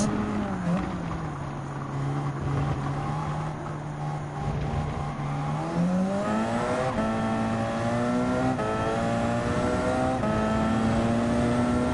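A Porsche 919 Hybrid race car engine in Gran Turismo 7 drones steadily with a smooth, high harmonic whine that rises and falls as it accelerates and shifts. It stays loud and close throughout, with a voice talking over it.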